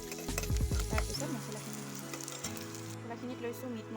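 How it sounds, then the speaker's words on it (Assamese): Sliced onions fry in hot oil for a kachkol bora curry, giving a steady, close sizzle with brief louder crackles near the start and a faint musical backing underneath. "পিঁয়াজখিনি ভাজি আছোঁ, এইখিনি অলপমান কালাৰটো চেঞ্জ হ'ব দিওঁ।"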